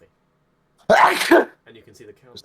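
One loud, close sneeze bursts out during a team game session review, followed by someone talking.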